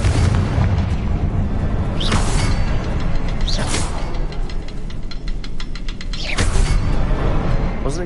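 A Confringo explosive spell blast from the Hogwarts Legacy video game, heard as loud booming bursts, several over eight seconds, with bright whooshing spell sounds and a dense rumbling game soundscape throughout.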